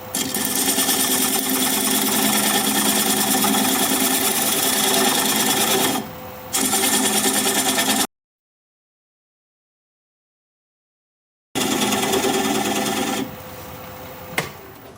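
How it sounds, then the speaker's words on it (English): A wood lathe turns a bowl at around 550 rpm while a 3/8 inch bowl gouge cuts away the tenon, a loud steady whirring hiss that drops out to silence partway through and then resumes. "I'm going to use a 3/8 inch bowl gouge and commence to removing that tenon"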